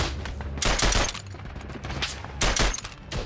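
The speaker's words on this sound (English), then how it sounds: "Oh, shots." Gunfire in a World War One video game as an enemy push advances through smoke: loud, close bursts of rapid shots in two clusters, with crackling fire between them.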